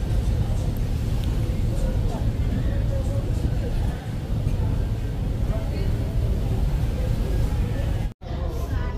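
A passenger launch ferry cruises on the Payra river toward the next ghat, its engine a steady low rumble with constant water and wind noise throughout, nearly unbroken apart from a brief dropout near the end.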